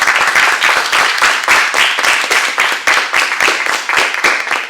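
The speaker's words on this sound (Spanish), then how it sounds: "Dame un aplauso al Señor." Church congregation applause, loud and close, with dense rhythmic clapping that swells and continues steadily for several seconds without any voices over it.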